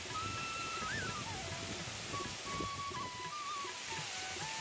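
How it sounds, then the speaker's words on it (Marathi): A large waterfall pours off the cliffs near Bhaje Caves in monsoon rain, a steady, even rush of falling water throughout, with a thin whistling tone drifting over the top. "लेणी परिसरातील हा एक मोठा धबधबा"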